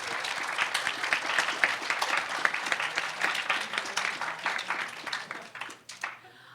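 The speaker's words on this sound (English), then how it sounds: "you should all give yourselves a nice round of applause for your work" Round of applause from attendees for presenters at a nanoscale microscopy summer program's final presentations, dense steady clapping from a modest group that fades out near the end.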